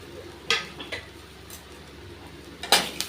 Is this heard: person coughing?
no